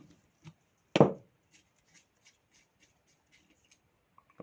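Carburetor parts on a four-stroke engine being loosened with an 8 wrench: one sharp metallic clack stands out, with a few faint ticks and light clicks scattered around it in a quiet room.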